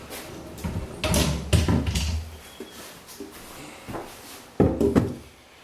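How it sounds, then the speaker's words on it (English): A wooden drawer slides out of a homemade folding laundry-room table, with a series of close wooden scrapes, bumps and knocks in irregular bursts separated by short pauses. "just take out that middle drawer so you can see what's going on here"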